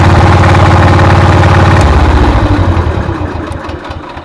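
A motor engine runs loud and close with a steady, throbbing drone, shifting to a slightly different tone partway through and easing off a little toward the end.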